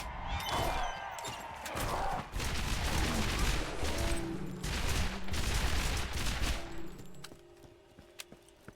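Shotgun fire in the Borderlands shooter game: a dense, loud wash of blasts and crashing game effects that runs for several seconds and then thins out to sparse clicks and hits, with no talking.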